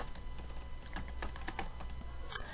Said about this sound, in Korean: F2키 눌러서 하시면 되죠